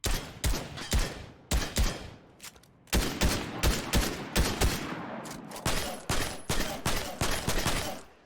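Assault rifle fire in Fortnite, loud close shots in quick volleys with short silences between bursts, the sharp cracks trailing off in brief echoes.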